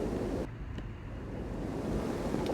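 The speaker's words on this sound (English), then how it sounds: "for example, a low frequency wind noise" Low-frequency wind noise with the bass rolled off by EQ, a steady broadband rushing and whooshing that fills the whole clip and briefly dips in intensity, with no voices.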